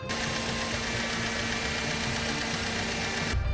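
A car engine idles steadily and evenly, a constant close mechanical hum with a faint rhythmic throb, running alone without talk.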